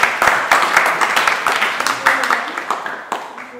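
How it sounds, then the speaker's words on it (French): An audience at a French gesticulated conference on money claps steadily, filling the room with a dense, continuous wash of applause. "On les applaudit pour les encourager."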